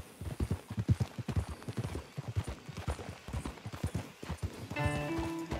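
Horses' hooves clip-clop steadily on a road in the video game Red Dead Redemption 2, a close, rhythmic run of hoof strikes that eases toward the end as a game music tone enters.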